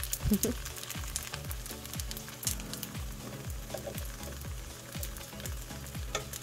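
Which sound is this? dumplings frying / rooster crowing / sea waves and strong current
dumplings frying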